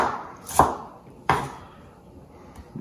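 Two sharp, close knife chops on a cutting board as a piece of onion is cut into small squares for lentil soup, each a crisp thud followed by a short tail, spaced well apart in a quiet room.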